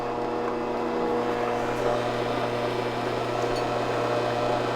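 Cuisinart soft serve ice cream machine dispensing soft serve into a bowl, a steady close mechanical motor hum with tonal whine, continuous and unchanging throughout.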